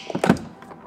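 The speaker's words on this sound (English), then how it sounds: "first thing you just have to do for the front door card is pull this off" A front door card being pulled off a BMW E90, heard as a short plastic thunk and clack followed by lighter rattles, close and brief.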